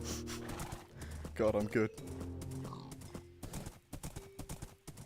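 A horse gallops in Minecraft's GregTech New Horizons modpack with rapid clip-clop hoofbeats and a brief neigh, close and moderately loud, while someone talks over it.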